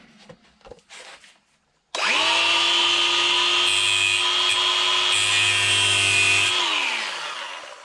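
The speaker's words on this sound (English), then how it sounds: "Grind it off." A power grinder spins up sharply after a short quiet lead-in and grinds off a small weld on a 6L80RE transmission shifter bushing, a loud steady high whine held for several seconds before winding down.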